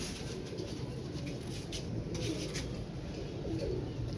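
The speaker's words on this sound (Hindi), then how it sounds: "ब्रीक शोल्डरों के कबूतर हैं ये" Brick-shouldered pigeons in a loft coo softly and steadily, the low murmuring calls repeating over a constant quiet background hum.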